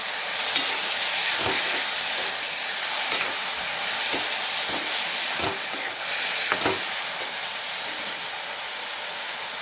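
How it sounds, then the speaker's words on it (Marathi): A spoon stirs ridge gourd masala with turmeric in a pan, a steady close sizzle broken by several scraping strokes at irregular intervals, with no voices. "आणि आता ह्याच्यामध्ये आपण हळद घालूया आणि छान हलवून घेऊयात एकदा"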